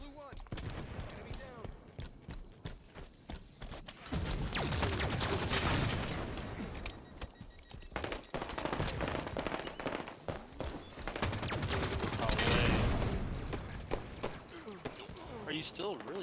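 Gunfire in a Halo 5 multiplayer capture-the-flag match, with dense, continuous bursts of weapon fire and explosions layered over game announcer voice lines.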